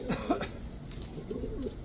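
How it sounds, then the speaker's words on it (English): Racing pigeons coo in a loft in soft, low, rolling calls, a few nearby coos over steady background noise, with no speech. "These are racing birds, eh?"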